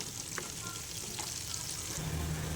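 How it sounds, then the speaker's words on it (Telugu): Flower samosas frying in hot oil, a steady, soft crackling sizzle that continues evenly throughout, with a low hum beneath it. "1 మినిట్ అయ్యాక వీటిని అటు ఇటు కలుపుకుంటూ గోల్డెన్ కలర్లోకి వచ్చేంత వరకు ఫ్రై చేసుకోవాలి."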